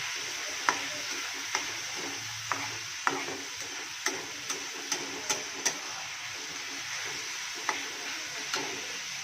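Vegetables, including tomato and green chilies, roast in a pan with a soft continuous sizzle, while a utensil stirs with scattered sharp clinks and scrapes against the pan at irregular intervals.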